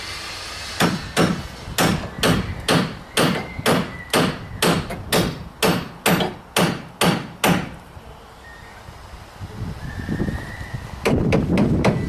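Hammer blows drive nails into timber formwork for a precast concrete beam, a rapid run of about fifteen sharp, evenly spaced strikes, then a pause and another quick cluster of taps, loud and close.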